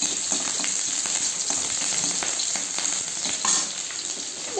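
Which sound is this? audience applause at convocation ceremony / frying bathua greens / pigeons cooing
frying bathua greens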